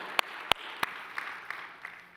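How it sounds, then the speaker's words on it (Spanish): A church congregation applauds at a sermon, a soft wash of clapping topped by a handful of sharp, evenly spaced claps that fade out. "Dale un fuerte aplauso al Señor, iglesia, pero fuerte."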